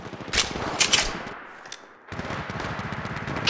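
Rapid automatic gunfire in the Apex Legends Mobile video game comes in loud, dense bursts, stops for a brief lull, then resumes and continues steadily to the end.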